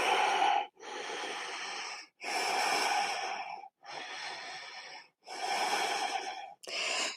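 Slow, deep breaths in and out through the nose during a yoga forward fold, each breath long and airy, with brief pauses between them, close and clear.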